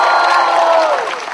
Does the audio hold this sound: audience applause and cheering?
yes